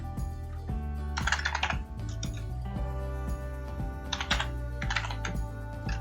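Rapid, uneven keystrokes clatter on a computer keyboard while Django code is typed for an e-commerce site, close and clear over a steady low background hum.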